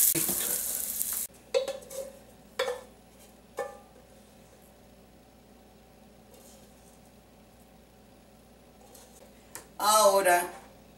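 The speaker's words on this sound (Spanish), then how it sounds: "sofriendo ligeramente las cebollas," Onions being lightly sautéed in a pot, a quiet sizzle punctuated by a few sharp clatters of a utensil against the pot, with a person speaking over it.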